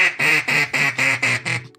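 A person's voice imitates duck calls, giving six quick nasal quacks in an even rhythm, close and clear, before stopping.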